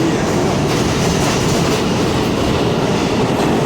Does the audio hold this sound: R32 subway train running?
yes